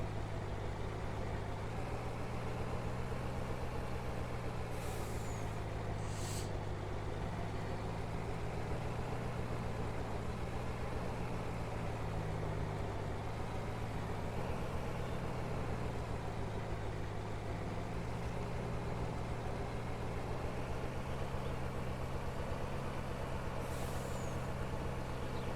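Truck driving in Farming Simulator 19 on the Black Mountain Montana map, a low steady engine drone running throughout with a couple of short hissing air-brake bursts near the start and again near the end.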